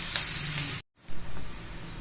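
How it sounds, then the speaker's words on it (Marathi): Chopped onion sizzles and fries in a hot pan while it is stirred for a besan bhindi masala, a loud close hiss that briefly drops out, then resumes steadily. "आता मी कांदा परतून घेते."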